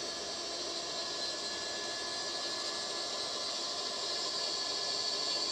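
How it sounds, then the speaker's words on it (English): A steady mechanical whine and hiss hums continuously, like an electric motor running at a constant pitch, as electric rams lift a floor panel on a Linssen GS550 steel yacht, growing slightly louder toward the end. "The floor panel is lifting up on electric rams."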